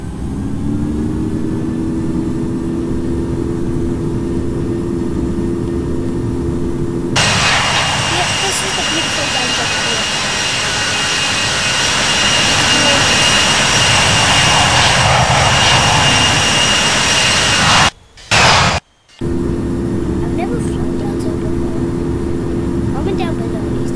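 Boeing 737 MAX 8 jet engines spooling up for takeoff in a flight video game, a steady whine that swells into a loud broadband roar and holds, with two brief dropouts near the end.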